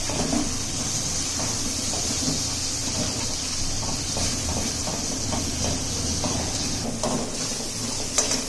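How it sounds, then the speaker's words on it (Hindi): Spices being roasted in a pan for Hyderabadi dhaba-style stuffed eggplant, a steady close sizzling hiss with scattered light scraping stirs throughout, no voices. "तो यहाँ मसाले को भूनते हुए हमें 1-2 मिनट हो चुके हैं।"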